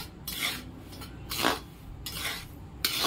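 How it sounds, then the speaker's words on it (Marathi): Semolina is stirred in homemade ghee in a pan, giving a soft, rhythmic series of scraping and rasping strokes, about five passes of a spoon against the pan, faint and close. "2 मिनिटं छान आता परतून घेते"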